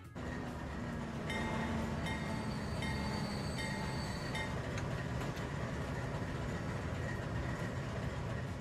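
A locomotive rated for 75 mph hauls 99 mph wagons across a canyon map in the transport simulation game Transport Fever 2, a steady rumbling rail drone with faint whining tones, continuous and even throughout.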